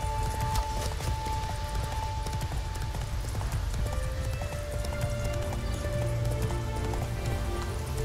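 Roach, a horse in the video game Witcher 3, clip-clops at a steady, rhythmic gait close by and fairly loud, with a game soundtrack playing underneath.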